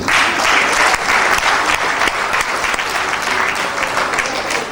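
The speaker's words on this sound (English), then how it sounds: "Clapping is healthy." Conference audience at a midwifery gathering in Nigeria applauds steadily, a dense wash of many hands clapping at close range throughout, with no break in the sound.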